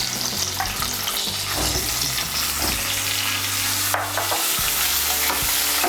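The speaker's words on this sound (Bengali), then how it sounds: "ওই তেলের মধ্যে আমি বেগুনগুলো ভেজে নেব।" Eggplant frying in oil left over from frying hilsa fish, a continuous close sizzle with scraping stir strokes from a spatula in the pan and no talking.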